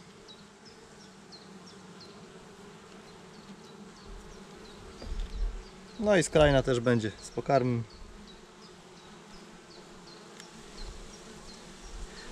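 Honey bees hum steadily at close range throughout, working frames in a young split colony, with someone speaking briefly over the buzzing midway.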